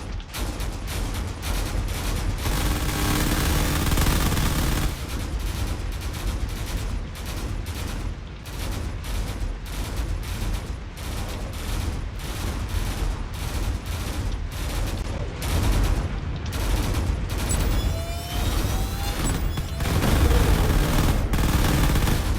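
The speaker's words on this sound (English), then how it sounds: "A lot of shots coming in here, and there's already some missiles being fired as well." Dense, nonstop gunfire and missile launches in a space combat video game, loud and close, with rapid overlapping bursts and rumbling blasts that keep going without a break.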